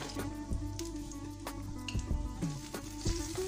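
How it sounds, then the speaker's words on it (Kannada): Chopped green chili fries in butter in a pan for corn masala chaat, giving a soft, steady sizzle with light crackles and a few stirring taps, quiet and close. "ಸ್ವಲ್ಪ ಮೆಣಸಿನ್ಕಾಯಿ ಫ್ರೈ ಮಾಡಿದ್ಮೇಲೆ"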